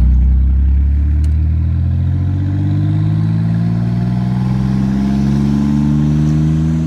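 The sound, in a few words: twin-turbo 3800 L36 Camaro engine revving on throttle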